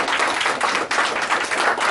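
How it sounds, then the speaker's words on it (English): An office group breaks into a round of applause, a dense, steady wash of many hands clapping close by for about two seconds. "Round of applause for him."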